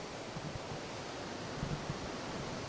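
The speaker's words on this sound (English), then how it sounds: "look at the power of this waterfall" A powerful waterfall in the Michigan wilderness near a gorge leading to Lake Superior, giving a constant, even roar of rushing water, moderately distant and faint, with no voices.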